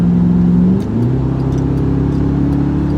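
A 2003 Lincoln Town Car with muffler and resonator deleted, its engine droning loud and close with a throaty low rumble that dips briefly and then settles back into a steady rev.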